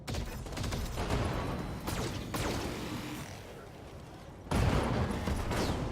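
Energy lasers and AC-10 autocannons on a BattleTech mech firing in heavy bursts, with dense overlapping blasts and booms from start to finish and a sharp loud salvo near the end.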